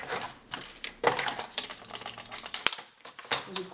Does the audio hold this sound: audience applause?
no